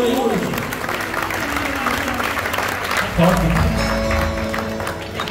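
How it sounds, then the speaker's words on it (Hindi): A crowd claps loudly and steadily at a devotional bhajan kirtan gathering in Bidhan Garden, a dense wash of applause that holds for several seconds while voices sound over it. "जोरदार तालियां बजेगा"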